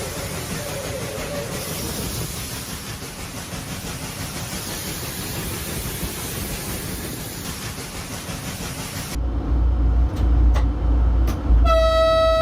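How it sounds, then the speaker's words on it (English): Train rolling past a crossing in Auburn, Washington, where it collides with a vehicle: a long steady rumble of rail noise, then a louder jolt and a sustained multi-tone train horn blaring near the end. "This driver in Auburn, Washington surely didn't expect a train collision on his list."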